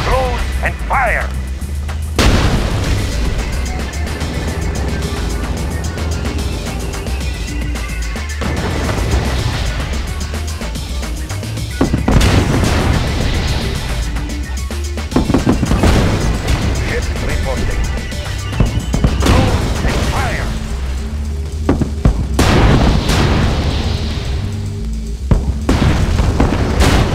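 Heavy artillery fire and booming explosions from the Red Alert 2: Yuri's Revenge strategy game repeat in loud bursts over a continuous battle din, with short unit voice lines in between.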